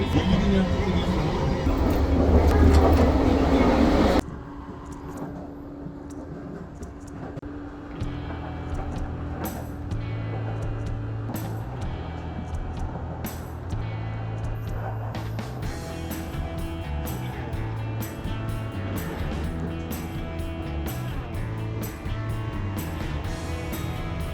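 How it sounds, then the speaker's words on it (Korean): A moving train rattles and rumbles from inside the carriage, with a loud opening burst that drops to a steady low drone punctuated by frequent clacks and jolts as the car shakes along the track. "기차가 너무 흔들려"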